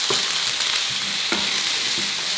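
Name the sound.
chopped red onion sautéing in a pan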